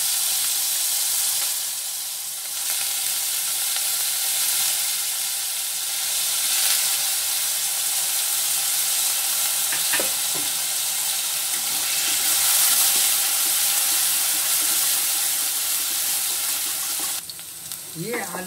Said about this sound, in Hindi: ये आलू मैं धीमी आग पर फ्राई करूंगी जिससे ये गल भी जाए और हल्का सा इनका कलर भी बदल जाए।